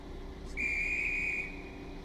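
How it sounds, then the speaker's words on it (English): A train guard in the Stepford County Railway game blows a whistle once, a single clear, steady high tone lasting about a second over a low background hum. "So he blows the whistle once,"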